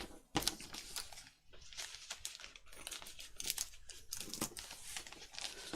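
Scissors cut through paper for a handmade winter folio journal, a close, quiet run of crisp snips and crinkling rustles with no talking.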